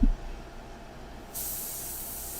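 An airbrush sprays a light India ink mixture in a steady, close hiss that starts abruptly partway through and continues to the end after a faint soft thump, with no talking.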